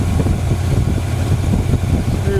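Dodge Diplomat engine idling roughly, a steady low rumble with uneven pulsing, heard close and loud throughout.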